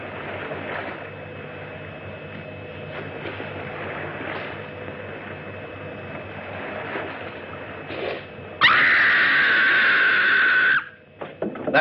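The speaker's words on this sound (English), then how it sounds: "That was a scream." A woman lets out a single loud, sustained scream that cuts in sharply and holds for about two seconds, following a long stretch of low, steady rumbling background.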